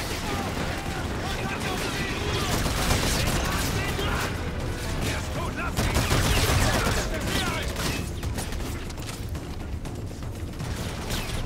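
Dense, continuous bursts of rapid gunfire and explosions from the futuristic shooter Call of Duty: Infinite Warfare, loud and sustained throughout, with a player talking over the combat.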